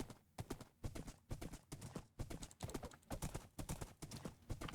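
Horse hooves clip-clopping in the Minecraft video game: a steady, rhythmic series of hoof clops on a hard street surface, faint and evenly paced, heard alone.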